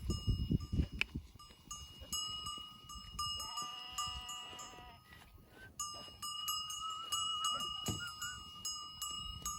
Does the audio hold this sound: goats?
yes